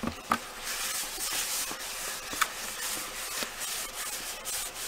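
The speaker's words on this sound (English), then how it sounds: "So I did decide to sand the pumpkin." Steady scratchy rubbing of sanding against a firm pumpkin surface, continuous back-and-forth strokes with a few soft knocks, close and moderately quiet.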